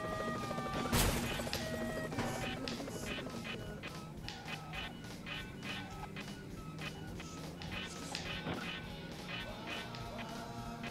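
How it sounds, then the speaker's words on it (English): In the GameCube and Xbox game Smashing Drive, a vehicle's steady metallic grinding and scraping runs continuously, layered with engine noise, crashes and game music, loud and dense throughout. "every time you like slightly turn the vehicle, it sounds like it's grinding metal on something"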